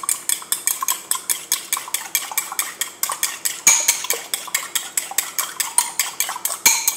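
A ladle stirs a thick mixture in a pot with steady, rhythmic scraping strokes, about three per second, close and even throughout, with a couple of sharper knocks against the pot.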